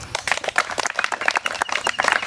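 Brisk hand clapping from a group at an Indian Army Agniveer recruitment rally in Tripura, irregular and fairly close, lasting only a couple of seconds with no talk over it.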